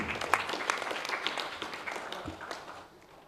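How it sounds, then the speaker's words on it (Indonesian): Scattered applause from a meeting audience at the ISAA national work meeting in a hotel, a short burst of light clapping that fades toward the end, with faint voices mixed in. "Tepuk tangan dulu,"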